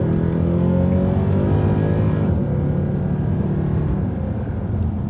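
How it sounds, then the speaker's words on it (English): A Mercedes E63 with a modified, louder exhaust, heard from inside the cabin: a steady, loud, deep engine drone with a slight rev, filling the whole stretch with no talking. "This car has a slight modification to the exhaust, which just means it's much more louder, and you can really hear it from inside the car."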